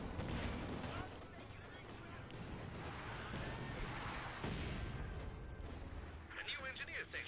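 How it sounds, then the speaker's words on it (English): Mortar fire in the strategy game Company of Heroes 2: dense, continuous battlefield rumble with heavy thumping impacts and explosions layered over one another, loud and sustained. "Looks like we're going to see some mortar cover."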